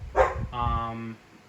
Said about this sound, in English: Sorry for the dog bark in the background.